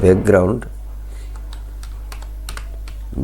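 Code gets typed on a computer keyboard with scattered, fairly faint key clicks over a low steady hum, after a short burst of speech at the start.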